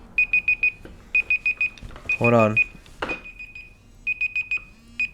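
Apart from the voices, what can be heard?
alarm going off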